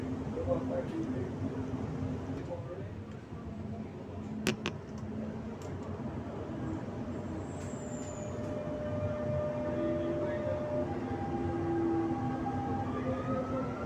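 A Dubai Metro Green Line train runs between stations, giving a continuous loud rumble with rising and falling motor whines and a few sharp rail clicks, under faint voices.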